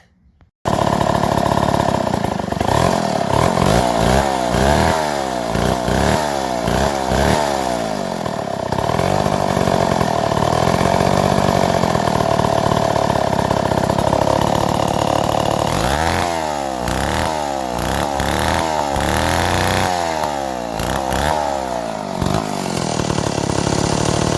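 A McCulloch 3-25 chainsaw runs continuously close by, its two-stroke engine buzzing steadily around idle with a few rises and dips in revs, and no talking over it.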